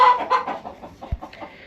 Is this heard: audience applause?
no